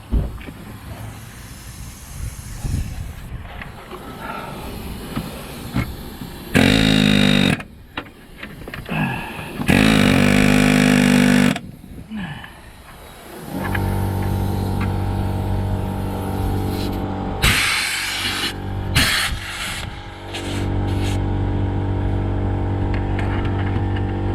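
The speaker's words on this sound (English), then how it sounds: "And the compressor's fired up again" An air compressor runs in a garage during rear brake work on a 2009 Mercedes-Benz W204 C200, a steady loud mechanical drone settling in for the second half after bursts of hissing air.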